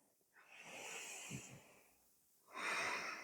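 Slow, audible breathing during a hatha yoga session: a long soft exhale with a faint snort, a pause, then a louder, breathy inhale, close to the microphone with no talk.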